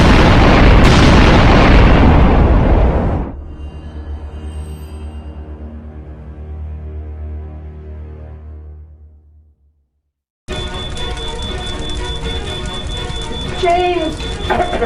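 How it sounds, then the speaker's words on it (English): A bomb goes off in a TV drama scene: a loud, sustained roaring blast that fades into rumbling debris and crackle, a brief silence, then tense background noise with voices. "It's a bomb!"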